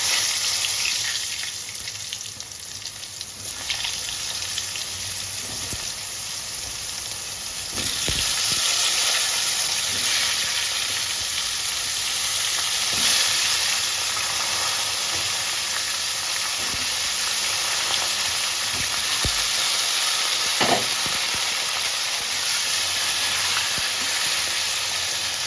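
Pointed gourd (potol) deep frying in hot oil gives a steady, bright hiss with a few soft pops, constant and close throughout.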